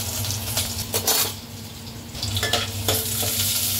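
Curry leaves and onion sizzle in hot oil in a pan, a steady crackling hiss broken by bursts of sharper spattering and a few metallic scrapes as the ingredients are stirred.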